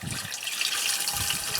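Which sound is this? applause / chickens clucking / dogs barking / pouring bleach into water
pouring bleach into water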